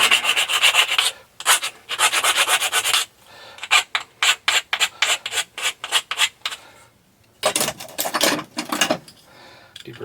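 A hand file deburrs the cut end of a metal frame tube, making a series of close, dry rasping strokes in quick rhythmic bursts with short pauses between them and no talking.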